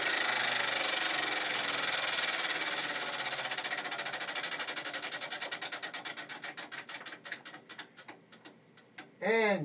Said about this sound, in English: So let's spin the wheel.